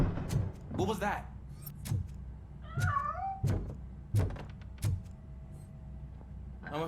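A cat meows a few times in RoboCop: Rogue City, a short rising and falling call amid game sounds: door thunks, clunks and mechanical noise, with a voice talking over parts of it.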